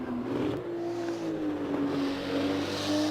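Turbocharged GT2 race car engine in a racing video game, a steady droning tone that dips and rises slightly as revs shift, continuous and fairly loud.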